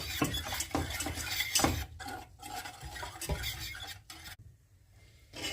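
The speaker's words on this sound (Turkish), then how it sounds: "yarım litre sütümüzü yavaş yavaş karıştırarak ekliyoruz" Milk is slowly stirred into pastry cream in a pot, with a utensil scraping and clinking against the pot in irregular strokes. The stirring is close and clear, fading into a quiet pause near the end.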